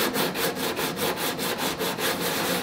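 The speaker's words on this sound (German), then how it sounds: "Das heißt jetzt hier also schleifen, schleifen, schleifen." Rhythmic back-and-forth sanding strokes on a Porsche Cayman 987 bumper, about five strokes per second, steady and close with a broad gritty rasp and no talking.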